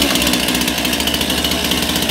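A cold STIHL MS 261 C-M chainsaw runs close by with a loud, buzzing two-stroke drone, pulsing quickly and steadily for the whole short stretch.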